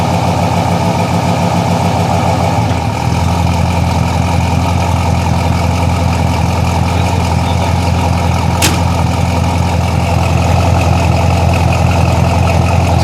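Truck engine running close and loud, a steady rumbling idle with a slight shift in tone early on, continuing evenly throughout.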